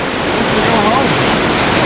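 A rushing river in Yosemite pours in a steady, loud broadband roar of churning water, continuous throughout, with no distinct voices rising above it.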